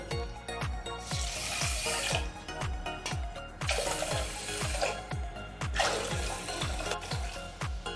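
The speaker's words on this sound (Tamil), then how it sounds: "இப்போ இதே கிண்ணத்துக்கு 4 கிண்ணம் நம்ம தண்ணி ஊற்றிடலாம்." Four cups of water pour into a pot of sugar for semolina halwa, a continuous splashing stream broken by rhythmic knocking pulses, close and fairly quiet, with no talk.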